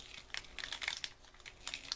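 Vinyl letters cut on a Cricut being peeled off their backing sheet, a run of soft crinkling and tearing crackles in short bursts, close and fairly quiet.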